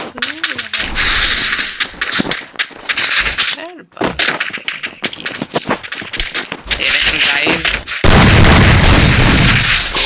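Gunfire in a shooter video game, bursts of shots and booms mixed with game effects under someone talking excitedly, ending in a loud sustained blast of noise.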